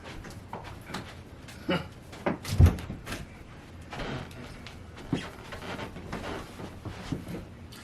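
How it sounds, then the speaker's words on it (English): An interior door is pushed shut at close range with a couple of knocks and bumps, followed by lighter handling thuds and shuffling movement, with no talking. "I gotta go shut their door."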